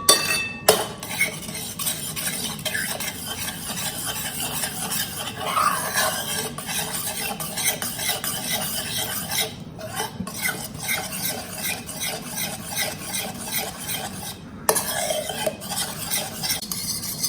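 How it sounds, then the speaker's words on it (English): Curd and milk whisked together for Bengali steamed sweet curd (bhapa doi), a steady, close scraping and swishing that runs almost unbroken for about seventeen seconds, with only brief pauses and no voices. "With a whisk I'm doing it so that it mixes well"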